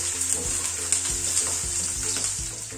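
Onion and garlic sauté in a pan with a loud, steady hiss and crackle, broken by several low scraping strokes as the pieces are stirred and chopped.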